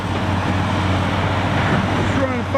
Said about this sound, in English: This is our Kenworth Log Truck we got.